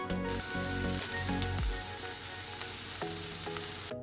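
Onions fry in a pan with a dense, continuous sizzle and crackle, close and even for the whole stretch, joined by a few soft stirring knocks.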